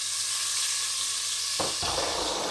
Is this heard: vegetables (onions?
yes